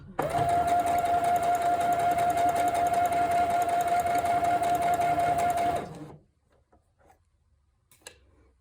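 A sewing machine runs steadily, stitching a dress seam in fabric 1 cm from the edge, with a loud continuous motor whir for about six seconds before it stops, leaving near silence.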